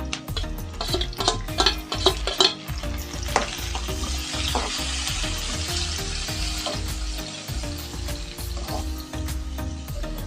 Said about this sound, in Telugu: ఉల్లిగడ్డ ముక్కలు కొద్దిగా మగ్గిన తర్వాతకి కోసి ఉంచుకున్న టమాటా ముక్కలు వేసుకుంటున్నాను